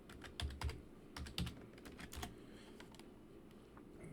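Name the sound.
typing a password on a computer keyboard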